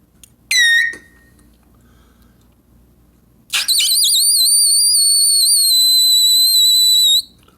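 Very high, thin squeaky trumpet notes aimed at a triple high C during an embouchure lesson: a short piercing squeal, a pause, then a long sustained shrill tone held for about four seconds, loud and alone.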